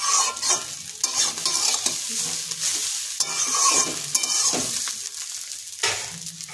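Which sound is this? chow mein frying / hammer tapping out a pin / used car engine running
chow mein frying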